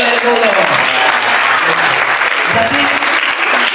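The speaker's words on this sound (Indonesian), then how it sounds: "Tepuk tangan kasih Ellen dulu." An audience at a church sermon gathering in Sabu Raijua claps loudly and steadily throughout, a dense, sustained applause with voices mixed in.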